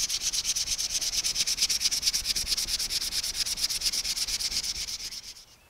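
Close, steady hand-sanding of a wooden board bow with 320-grit sandpaper: fast, even back-and-forth rasping strokes that keep a regular rhythm for about five seconds, then fade at the end, with no talking.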